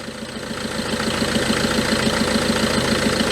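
A Peugeot 307 car engine idles up close after a full service, giving a steady, loud running sound with an even, rhythmic pulsing and no talk.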